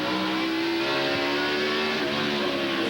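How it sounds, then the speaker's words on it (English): Jeff Green's NASCAR stock car at the 2003 Virginia 500, heard from an onboard front-valence camera: a loud, close engine roar climbing steadily in pitch under hard acceleration, with no talk. "See the car, when it's under acceleration, the back's down"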